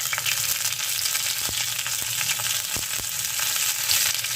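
Curry leaves crackle in a hot oil tempering (phodni) meant for a koshimbir salad. The sizzle stays steady and close, with sharp pops and occasional stirring clicks.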